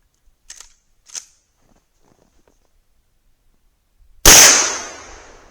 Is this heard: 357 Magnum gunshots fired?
yes